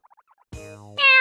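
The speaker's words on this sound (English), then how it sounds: "Meow, meow, meow." A cat girl character from the Style Savvy: Fashion Forward video game gives a synthesized meow: a few soft blips, then a sustained pitched tone that rises into a brighter, louder call lasting about a second.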